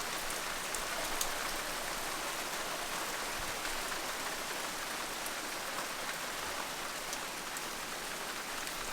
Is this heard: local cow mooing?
no